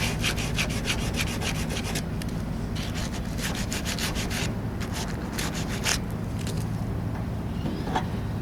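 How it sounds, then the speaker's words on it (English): Hand sanding of the narrow bars on a grille from a 1968 AMX under restoration, heard as quick, close, rhythmic bursts of scratchy rubbing strokes with short pauses, over a steady low background hum and no talking. "Takes a lot of work on these grills because you have to sand every one of these little bars."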